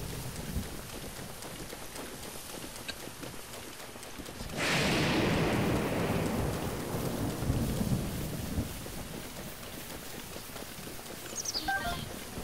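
Rain and a thunder rumble in The Legend of Zelda: Breath of the Wild, with steady light rainfall swelling into a loud, broad roll of thunder around the middle that then fades back into the continuing downpour.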